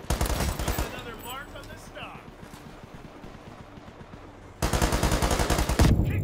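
Rapid automatic rifle bursts from an AK with a holographic sight in the shooter game World War 3, loud bursts at the start and again near the end with quieter battlefield noise between, under voices.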